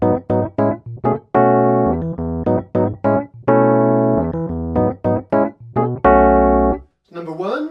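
Rhodes electric piano tone from a Yamaha CP88 with all effects off, one of several vintage Rhodes model variations, playing quick staccato chords and a few sustained ones, dry and close, with a brief voice at the very end.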